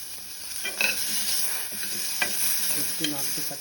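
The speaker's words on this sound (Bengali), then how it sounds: "একটু নাড়তে থাকতে হবে 10 সেকেন্ড" Chopped tomatoes being stirred in a frying pan while making pumpkin soup: a steady broad sizzle carries scattered scraping strokes of a spatula against the pan, close and moderately loud, with no talking.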